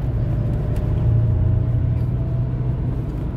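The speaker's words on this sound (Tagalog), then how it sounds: "Pero traffic na, nagbi-build up na yung traffic." Steady road traffic in early-morning congestion, a continuous low rumble of car engines heard from inside a vehicle, loud and even throughout with no voices.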